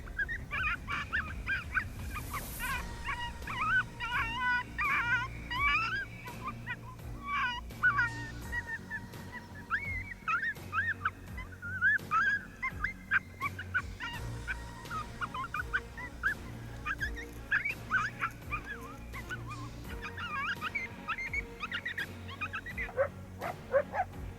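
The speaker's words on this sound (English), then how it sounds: "The barking and howling literally went on for minutes" Coyotes on open prairie bark, yip and howl in a long, continuous chorus of wavering high calls and sharp barks, layered and fairly loud throughout, with no talking.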